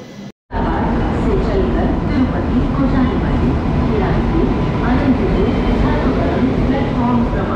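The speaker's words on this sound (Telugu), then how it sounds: "చూడండి, మన ట్రైన్ అయితే వచ్చేస్తుంది." Venkatadri Express pulling into platform 1, a loud continuous rumble of wheels and carriages with faint clatter, running steadily after a brief silent gap near the start.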